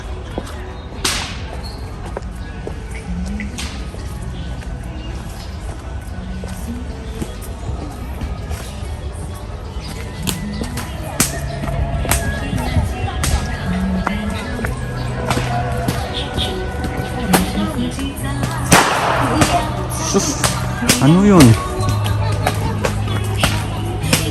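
Sharp whip cracks snap repeatedly over a noisy outdoor scene in a Shanghai park, with crowd chatter and background bustle throughout.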